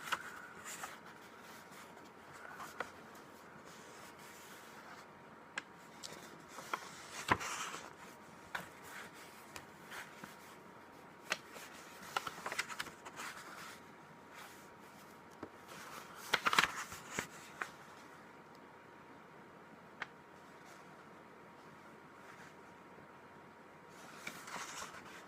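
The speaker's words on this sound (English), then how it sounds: "some people like page turning sounds" Quiet paper rustles and occasional page flips, with soft scattered crinkles and a couple of sharper turns, close up in a hushed room.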